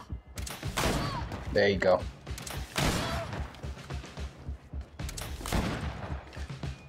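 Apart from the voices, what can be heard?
gunshots fired in the video game GreedFall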